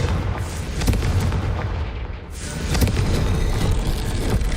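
Confringo explosive spell cast in the Hogwarts Legacy video game in a dark corridor: a loud, booming blast with a heavy rumbling body that dips briefly and then swells again.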